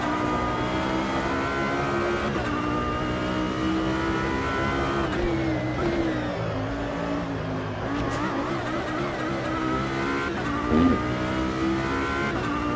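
Race car engine in a sim racing game, a steady high-pitched drone that drops under braking and climbs again with downshifts and acceleration, continuous and moderately loud, with no one talking.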